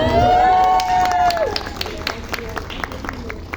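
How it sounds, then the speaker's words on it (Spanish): An audience at a book talk in Lima claps and cheers, with a short vocal shout or whoop at the start over a crowd murmur, then scattered clapping trailing off beneath background chatter. "Aplauso, por favor"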